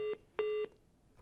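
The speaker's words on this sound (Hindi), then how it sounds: "संदीप जी फोन काटकर चले गए हैं," A telephone disconnect tone on a news phone-in line after the caller hangs up: two clean electronic beeps, a short one followed by a longer one, then quiet line hiss.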